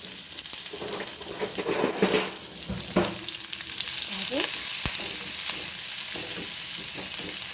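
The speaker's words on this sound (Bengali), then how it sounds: "পেঁয়াজটাকে নরম নরম করে একটু ভেজে নেব।" Chopped onion with curry leaves and asafoetida sizzles steadily in hot oil for sooji upma, a close, continuous frying hiss with a few stirring scrapes.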